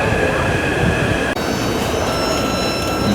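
Ride aboard a Taipei MRT train, a steady loud rumble of wheels on rails with a faint high whine and a brief dip partway through.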